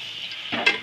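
Prawns being stirred and fried with spice masala in a pan, a soft steady sizzle with a burst of scraping stir movements near the end, close and alone without talk.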